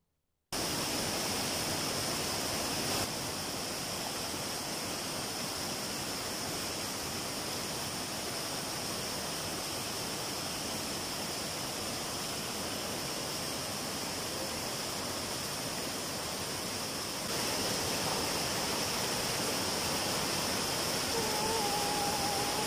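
Flowing river water at Río Yurubí in San Felipe, heard as a steady broadband rush that holds constant throughout and grows slightly louder near the end, with no voices.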